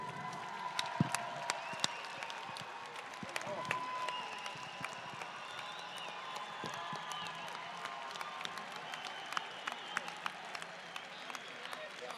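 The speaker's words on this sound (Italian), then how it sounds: "Manteniamo questo applauso anche per chi non è potuto essere qua oggi" A stadium crowd at a university graduation ceremony at Stadio Friuli in Udine keeps up a sustained patter of applause, many scattered claps heard from a distance with faint crowd murmur throughout.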